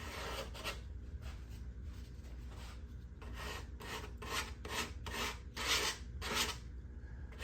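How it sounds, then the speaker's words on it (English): A chisel rasps through Western red cedar on a guitar soundboard in a series of short scraping strokes, some quicker and some longer, close and faint. "This Western red cedar is chiseling very easily"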